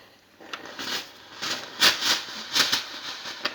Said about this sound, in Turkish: Evet, şok buharımız aktif çalışıyor.